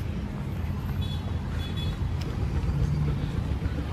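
Highway traffic outside the exit of NAIA Terminal 1 airport, a continuous dense roar of cars and heavy vehicles with low engine rumble and tyre noise, loud and close throughout.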